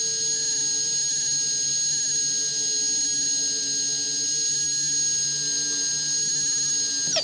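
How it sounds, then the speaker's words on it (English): A small drill bit bores into the axle of a 1/64 scale model trailer, giving a steady, high-pitched whine that holds evenly for about seven seconds close to the microphone before cutting off abruptly, with no talk. "Drill slowly and then work the bit in and out to clear out all the material inside"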